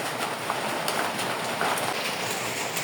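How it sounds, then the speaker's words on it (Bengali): Rain falls steadily outdoors near leafy garden plants under a clouded sky, a soft continuous hiss of drops with occasional sharper patters, fairly faint and even throughout. "আর বৃষ্টি পানি পড়ছে,"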